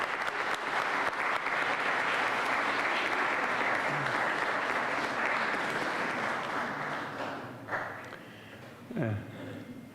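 Sustained applause and cheering from a graduation ceremony audience fills the hall, steady and dense for most of the stretch before thinning out, with a brief voice near the end.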